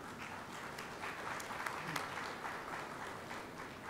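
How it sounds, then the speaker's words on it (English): An audience claps throughout at an EV production event in Pune, a dense, continuous round of applause that holds steady at moderate volume. "there is no better sound than this one. So the claps"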